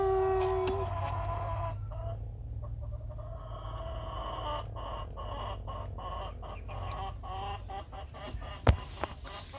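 Many chickens cluck and chatter together nearby, a continuous busy flock sound with a low background hum and one brief knock near the end.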